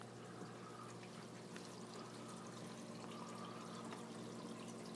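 Steady trickle and pour of water through an aquarium overflow box into a sump under a 75 gallon cichlid tank, continuous and faint over a low pump hum, no talking.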